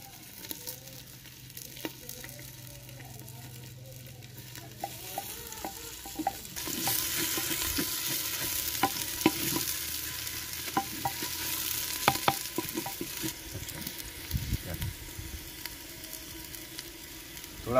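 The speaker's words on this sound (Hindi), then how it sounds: "थोड़ा सा लहसुन को भूनना है" Onion and garlic fry with a steady sizzle in a pan, with clear stirring and scraping strokes throughout; the frying grows louder and busier about a third of the way in, during village-style aloo methi cooking.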